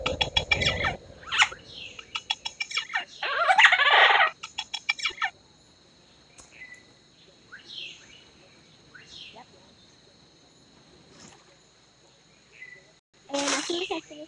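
Chicken clucking in a bird simulator video game: rapid bursts of loud, close clucks and squawks at the start, then softer scattered chirps and cheeps, ending with another loud squawk.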